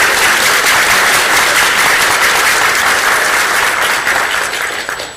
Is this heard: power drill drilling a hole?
no